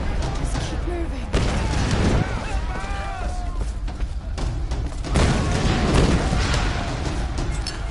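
Heavy explosion rumbling through a facility in the 2013 Tomb Raider video game, with deep booming blasts and crumbling debris around 1.2 s and again near 5.2 s, mixed with someone talking over the game sounds.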